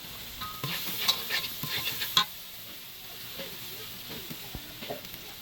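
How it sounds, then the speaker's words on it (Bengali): Broiler chicken masala frying and being stirred in a pan, a soft steady sizzle with scattered scraping stirs that cluster near the start, then turn quieter and sparser. "আমি মশলা দেব আর কষিয়ে নেব একটু নেড়ে ছেড়ে"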